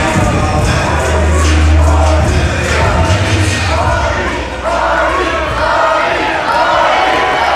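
A wrestling crowd in Farmville cheers and roars loudly and continuously, with a dense wash of voices and shouts swelling throughout, while a low hum runs underneath.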